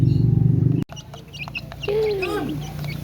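A loud low engine hum cuts off abruptly, leaving a few short hen clucks and a rising squawk against a quieter background murmur.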